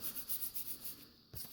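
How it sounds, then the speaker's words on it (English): Wet sandpaper rubs rhythmically back and forth on a wooden tanto, about six even strokes at close range, quiet and unvoiced, ending with a brief knock. "doing wet sanding"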